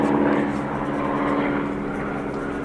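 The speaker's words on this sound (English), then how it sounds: "Oh wow, 2 airplanes are flying over." Two airplanes flying overhead outdoors near the Three Sisters mountains, a steady, broad engine drone that holds at an even loudness throughout.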